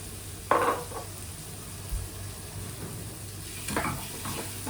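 Diced potatoes, cut very small, frying in oil in a pan, giving a low steady sizzle with a few brief clinks and scrapes of stirring near the start and end.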